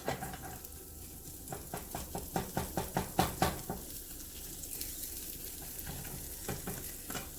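Food sizzles and crackles steadily in a hot pan, with soft rhythmic scraping and tapping from a utensil stirring, fairly quiet and close.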